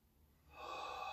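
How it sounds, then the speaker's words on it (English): Deep inhalation through the nose during a karate training class exercise, a single rising breath that swells from quiet to a steady, close airy rush and holds. "Breathing deep through your nose"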